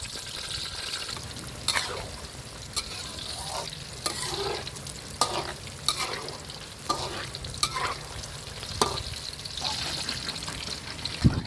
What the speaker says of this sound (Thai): เราจะใช้เวลาทอดมะเขือยาวประมาณ 1 นาทีนะครับ